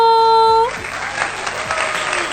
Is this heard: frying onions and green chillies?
no